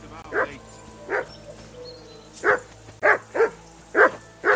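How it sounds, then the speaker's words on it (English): A dog barking in the medieval video game Kingdom Come: Deliverance, short sharp barks repeating at uneven intervals, about seven in a row, fairly close and loud over a quiet game background. "Call off that damn dog"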